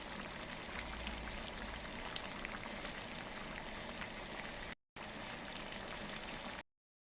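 Hot water, about half a cup, is poured into a pot of tomato sauce for a potato dish, making a steady hissing, bubbling wash of liquid that runs continuously and fairly close, with no talk.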